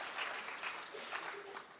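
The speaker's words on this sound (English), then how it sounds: "Yeah, you're allowed to applause." Audience applause at a parent engagement conference plenary session, a brief steady burst of clapping from a hall crowd, moderately faint and continuous throughout.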